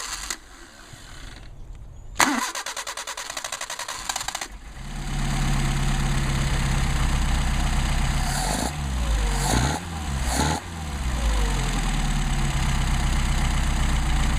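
A 190SL engine fitted with Solex 44PHH carburetors restarts after a short pause and then settles into a steady, loud idle. The running is continuous and close, with a few brief throttle blips partway through.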